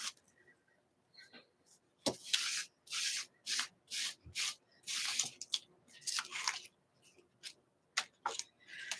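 Wet paint is wiped off a craft stencil cut on an electronic die-cutting machine. Quick, close rubbing strokes come in a steady back-and-forth rhythm, each a short scrubbing swish, with quiet gaps between.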